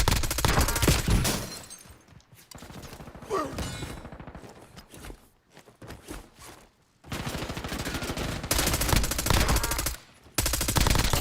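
Automatic machine gun fire in the video game Call of Duty Warzone, long loud bursts broken by short pauses, with quieter mechanical clicks and scattered shots between the volleys.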